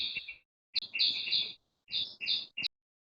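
A bird chirps close by in short, bright, high tweets arranged in several quick bursts with brief silences between them, and nobody speaks.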